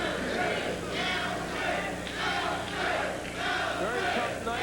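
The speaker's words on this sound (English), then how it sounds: "Crowd chanting Kotey's name, and he responds." A boxing crowd at the Alfred Kotey versus Francisco Montiel fight chants Kotey's name in loud, rhythmic, surging waves that fill the arena without letup.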